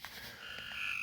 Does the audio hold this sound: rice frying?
no